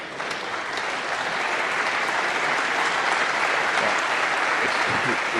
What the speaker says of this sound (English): He's getting a round of applause.